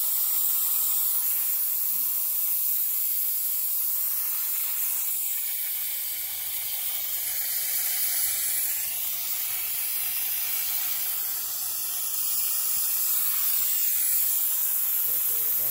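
Compressed air from a shop airline hisses steadily and loudly through a hose rigged to a catch can setup on a Ford Explorer 3.5L EcoBoost, a continuous broadband rush with slight wavering in pitch lasting throughout.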